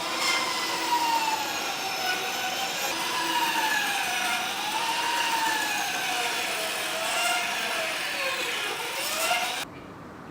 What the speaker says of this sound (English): So I couldn't cut out that middle section just on the bandsaw.